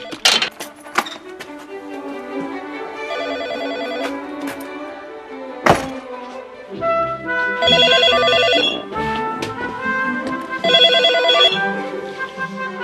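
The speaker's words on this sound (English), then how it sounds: "Professor Nick Humphrey gets a phone call from a colleague." A telephone rings in bursts of bright electronic trills with pauses between them, loud and close in an otherwise quiet room.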